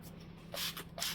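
Handheld leaf spray bottle misting an orchid, two short soft hissing spritzes close by in a quiet room.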